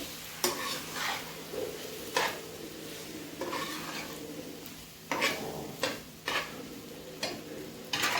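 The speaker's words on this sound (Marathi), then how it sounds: "त्याच्यानंतर आपल्याला साबुदाणा टाकायचा आहे. त्याच्यामध्ये पूर्ण मिक्स करून घ्यायचं." Sago pearls for khichadi are stirred through a hot pan, bringing a soft constant sizzle broken by repeated scraping and clinking strokes of a spoon against the pan at irregular intervals, up close with no talk.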